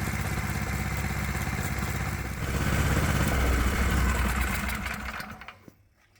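A Predator 212 small gasoline engine with a swapped carburetor runs with a loud, continuous rattling drone, close up. It swells briefly in the middle, then dies away and cuts out near the end.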